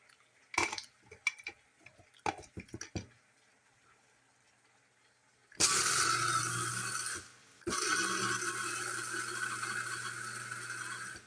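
Pumpkin seeds are ground for a dish of collard greens and spinach with ugali. A few sharp mechanical clicks come first, then two loud, continuous bursts of grinding close by with a brief gap between them.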